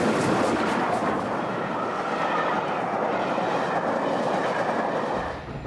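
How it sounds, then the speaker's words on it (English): The Flying Scotsman steam train rolls along the track with a steady, loud rumble and rhythmic clickety-clack of wheels over rail joints, fading slightly at the end; no talking. "it's great to be able to travel on a train like this, the Flying Scotsman"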